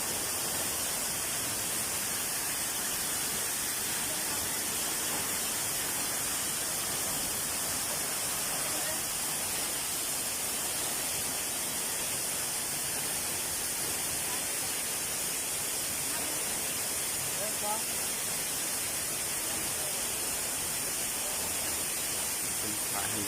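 Continuous dense roar of a waterfall at a rocky falls, steady broadband rushing water heard close and loud throughout without pauses.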